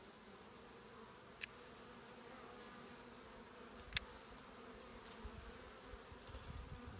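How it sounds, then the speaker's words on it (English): A honeybee swarm in a garden gives a steady, low, fairly faint buzzing throughout, broken by a couple of brief sharp clicks. "there's a swarm in the garden"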